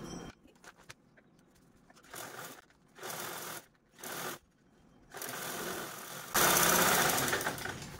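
A sewing machine stitches a zipper onto a single piece of fabric for a makeup kit. Several short whirring bursts are broken by pauses, and the last burst is a longer, louder run.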